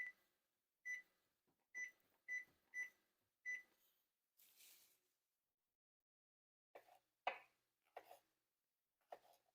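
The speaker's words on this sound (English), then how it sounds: "Let's go ahead and set our timer for 10 minutes." Short electronic kitchen timer beeps while setting a 10-minute countdown beside a boiling jalapeño pickling brine; about five crisp, evenly spaced tones, a soft hiss, then a few louder clicks and knocks near the end.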